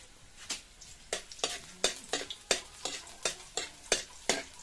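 Garlic frying in a pan, stirred with quick scraping strokes in a steady rhythm over a constant close sizzle, with no voices.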